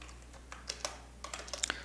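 Code is typed on a computer keyboard as a quiet series of irregular key clicks, sparse at first and then quicker, with no talk.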